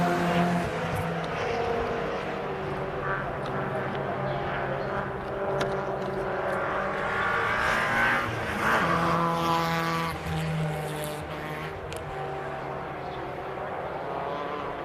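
MG Car Club race cars lapping Cadwell Park in a club race, engines roaring and shifting pitch as cars pass, a swelling drone over an outdoor background with commentary voices underneath.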